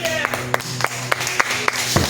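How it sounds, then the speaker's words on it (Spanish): A church congregation claps in praise, a run of sharp, regular hand claps spaced evenly and close by, with some faint voices mixed underneath. "Un aplauso para Cristo, hermanos."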